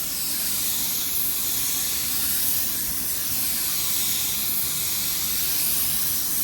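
Spray gun laying a matte clear coat drop coat across a car panel, a steady loud hiss of air and atomized paint that runs without a break, close up and alone.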